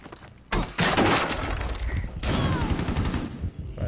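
Bursts of gunfire in the tactical shooter Rainbow Six, loud rapid shots with crackling debris and breaking glass, recurring in dense volleys up close.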